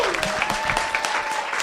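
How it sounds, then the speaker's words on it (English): Church congregation at a thank-you service claps hard, a dense burst of applause lasting under two seconds, with a voice faintly audible beneath the clapping. "I want you to clap like really hard for"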